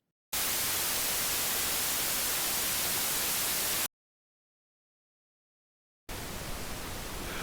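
A synth noise module puts out a steady wash of white and pink noise: a flat, loud hiss that cuts off abruptly into silence for about two seconds, then returns somewhat quieter.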